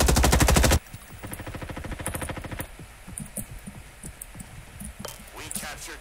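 Rapid automatic gunfire from Roblox Frontlines, a loud dense burst up front that gives way to scattered, quieter shots and clicks behind game noise.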